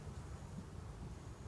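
Honeybees buzz around beehives in hot, humid weather, a faint continuous drone heard at a distance with light wind noise and no speech.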